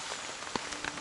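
Soft, steady patter of rain with scattered distinct drops tapping a surface, fairly quiet and continuous.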